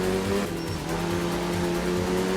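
In a racing video game's career mode, a car slides under the handbrake with a sustained tyre squeal over a loud, continuous engine drone.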